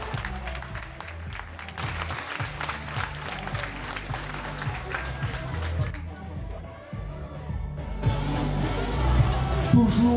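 Audience clapping at a lingerie fashion show runway, a moderate steady patter mixed under loud thumping music with a voice talking over it, swelling a little toward the end.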